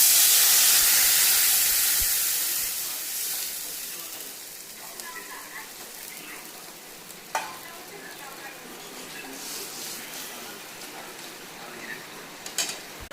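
Water poured into a hot pan of fried spices for a hilsa curry, starting with a loud hissing burst that settles into a softer steady sizzle, with a few sharp spatters and stirring clatters.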